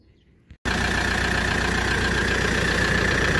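A Daedong RX570 tractor engine with a faulty alternator catches after a brief crank and settles straight into a loud, steady, rumbling diesel idle close by.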